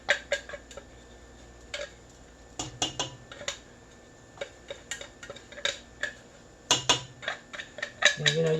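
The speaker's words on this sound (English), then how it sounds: "And scrape all your tuna out in there." A spoon scrapes canned tuna out of the can into a pan, making a series of sharp metallic taps and clinks that come in irregular bursts, near and fairly quiet. No one talks.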